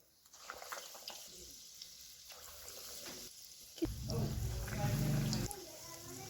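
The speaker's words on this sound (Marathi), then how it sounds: "आता ह्याच्यामध्ये वडे सोडून घेऊया" Vadas drop into hot oil: after a fairly quiet stretch with some talking, a loud bubbling sizzle bursts up and holds steady for about two seconds before easing.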